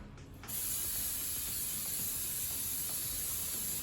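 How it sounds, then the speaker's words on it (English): After a brief pause, cooking spray hisses continuously into a cake pan for several seconds, close and fairly loud. "Spray it in the pan."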